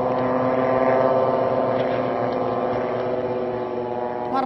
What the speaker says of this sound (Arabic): أنا بسمع صوت الطيارة، الزنانة